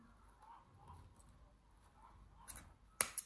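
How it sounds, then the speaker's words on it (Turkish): Scissors snip crochet yarn on a handmade mini bag, giving two quick close clicks near the end after a quiet stretch with soft handling sounds. "Ve bu noktada kesiyorum"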